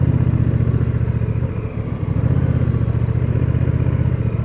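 Close, steady engine drone of a Honda Rebel 1100 motorcycle at low speed during riding drills, with a brief throttle dip midway before the even idle-like rumble resumes; no speech.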